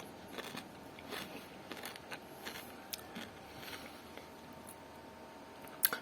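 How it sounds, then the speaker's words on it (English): Several crisp crunches in irregular succession, close and fairly quiet, as someone bites and chews pickled Armenian cucumber; no talking. "I want you to listen to the crunch, to the sound, while I'm eating the pickles."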